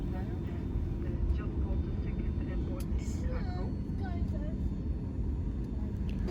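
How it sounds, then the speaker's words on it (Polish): Rumble of a LOT Boeing 737 MAX airliner taxiing to the gate after landing with reverse thrust, a steady loud low engine drone filling the cabin throughout with faint higher tones above, and a voice talking over it. "No i kołujemy do gate'u."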